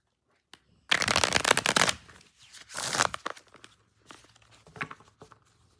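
Tarot cards are shuffled close up in two brisk riffling bursts, followed by softer handling and light rustling.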